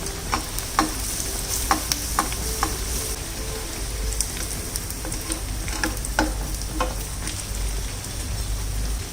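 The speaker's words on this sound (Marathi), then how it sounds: "दोन्ही बाजूने व्यवस्थित अगदी चांगलं गोल्डन ब्राऊन होईपर्यंत फ्राय करून घ्यायचे" Bread cheese kachori fry in hot oil over medium-high heat, a dense continuous sizzle with occasional light taps and stirring clicks, close and steady throughout.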